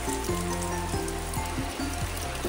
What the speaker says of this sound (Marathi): आणि मस्त छान पाऊस पडतोय.